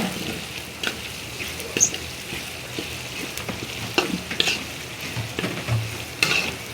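Olive pickle with chili powder and pickle spices is stirred in a pan, with a low sizzle and scattered clinks and scrapes of a spoon against the pan, close by and without talk.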